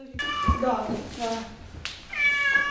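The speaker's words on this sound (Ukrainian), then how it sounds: "Тільки, він так м'явкає." A male domestic cat meows repeatedly, with several drawn-out, wavering calls close by, while people talk alongside.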